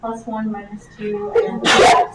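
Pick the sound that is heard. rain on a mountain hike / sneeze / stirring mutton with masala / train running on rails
sneeze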